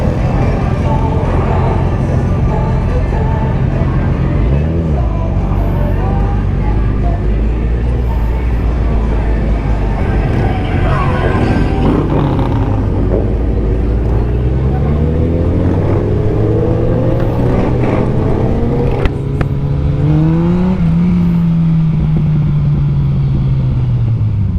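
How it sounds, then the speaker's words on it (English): A Yamaha FJR motorcycle exhaust rumbles loudly on a busy street during a Biketoberfest rally, with revs rising and falling in several swelling sweeps over a constant engine drone. "One thing I love about my FJR is going to be literally that exhaust just sounds incredible."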